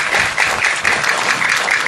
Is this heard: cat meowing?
no